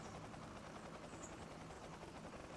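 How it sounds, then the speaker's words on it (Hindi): A helicopter engine runs in the survival game Last Day Rules Survival, giving a faint, continuous, even rumbling whir with no breaks or changes across the whole stretch. "अभी मैंने हेलीकॉप्टर का इंजन स्टार्ट कर दिया है"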